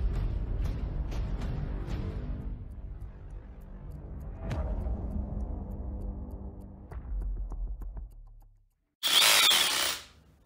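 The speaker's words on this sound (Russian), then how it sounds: "Это у нас перфоратор. 18-вольтовый перфик." An Interskol PA-24/18V 18-volt cordless rotary hammer runs in short bursts with sharp clicks and a rattling, whirring motor, close and fairly loud, ending with one harsh, brief high-pitched burst; no talking.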